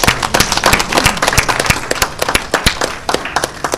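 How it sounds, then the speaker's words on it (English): Applause at a college board of trustees meeting, a smaller group clapping close by with distinct, irregular individual claps and uneven bursts rather than a smooth wash. "Let's give them a nice round of applause."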